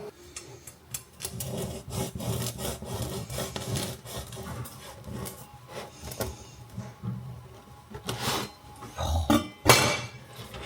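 A knife saws through a crusty jalapeno bread loaf, giving repeated raspy scraping strokes in an uneven rhythm, close and fairly quiet, with a few sharper knocks near the end.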